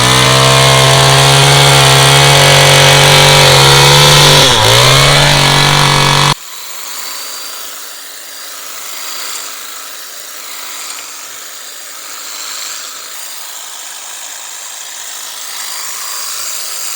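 Kress KG259 battery hedge cutter and a petrol hedge cutter running: a loud, harsh petrol engine whine with steady high tones for about six seconds, then a much quieter, even electric motor hum carrying on to the end.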